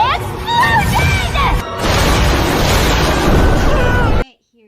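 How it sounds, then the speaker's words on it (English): A loud spell-effect explosion in a tabletop role-playing session, a sustained roaring blast about four seconds long that follows a shouted incantation, with a brief tonal whoosh at the start and ending abruptly in near silence. "Explosion!"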